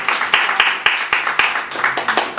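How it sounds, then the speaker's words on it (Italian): Applause from an audience at a poetry lesson, with a few distinct sharp claps standing out over a smaller, thinner round of clapping that carries on briefly and unevenly. "Quindi facciamo un applauso."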